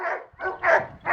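Dogs bark on a farm, four close, loud barks in quick succession, each a short yelping burst with brief gaps between them and no talk.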